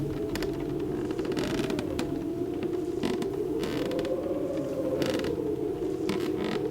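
Wooden floorboards creak continuously under approaching footsteps in a room, a loud, close, low groaning strain with scattered clicks and sharp ticks, steady throughout and without talk.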